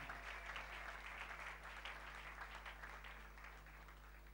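A church congregation applauding during a Sunday service: sustained, even clapping from many hands that carries on throughout and eases slightly toward the end, with no one speaking over it.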